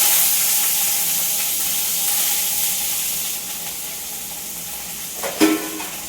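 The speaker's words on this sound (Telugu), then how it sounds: "2 రెమ్మల కరివేపాకుని అయితే శుభ్రంగా వాష్ చేసేసి తర్వాత అయితే ఈ తాలింపులో వేసుకున్నాము." Two sprigs of washed curry leaves sizzle and hiss in hot tempering oil, a steady close frying crackle that fades slightly, with a brief louder burst near the end.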